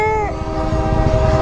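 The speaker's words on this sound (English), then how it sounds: "I love the sound of trains." A train passing at close range, with a loud sustained horn blast that drops in pitch as it goes by, over heavy rumbling of the wheels and cars.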